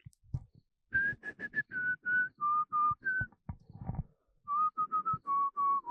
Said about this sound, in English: It's the song with the whistling.